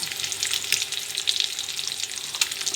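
Eggs frying in a hot pan give a dense, continuous crackling sizzle, close and steady throughout, with no talk.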